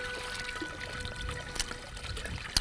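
Spring water pours steadily from a tank at a homestead spring development in Wyoming, a continuous close splashing rush with small gurgles and no talking.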